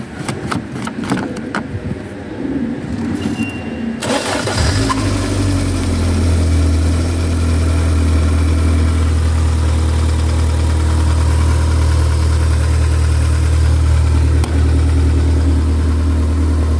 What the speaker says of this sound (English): Fire her up, Jacko.